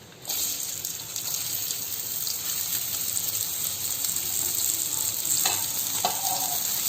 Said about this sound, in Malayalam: ഇനി അതിലേക്ക് നമ്മൾക്ക് ഇഞ്ചിനെ ഇട്ട് കൊടുത്തിട്ട് വറുത്തെടുക്കാം.